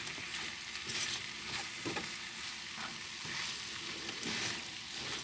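Prawn curry sizzles steadily in a pan while being mixed, a continuous close frying hiss broken by soft scraping stirs, with no talk.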